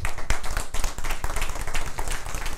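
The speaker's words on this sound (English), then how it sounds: "A big round of applause." An audience at a presentation applauds, with dense, continuous clapping from many hands that stays steady and fairly loud throughout.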